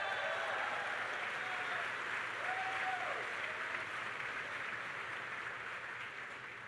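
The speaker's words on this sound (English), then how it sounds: "That deserves a round of applause there" Steady, sustained applause rolls through a crowd at a spring university commencement ceremony, broad and even throughout, with faint tonal sounds drifting above it and a slight fade toward the end.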